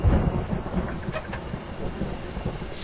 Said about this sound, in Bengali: সে কি, আজ আবার বৃষ্টি?